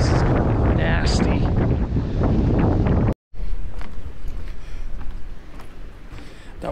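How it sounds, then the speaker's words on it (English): Strong gusts from Tropical Storm Ophelia roar at Ocean City, Maryland, a loud buffeting wind rush battering the microphone near flooded docks, with a brief dropout midway and someone speaking over it at first. "Man, is it windy."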